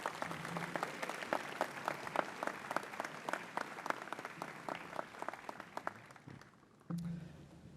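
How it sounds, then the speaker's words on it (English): An audience at a school convocation ceremony gives steady applause, many hands clapping in an even, moderately distant patter that gradually thins before dying out near the end. "could give another round of applause for Madeline"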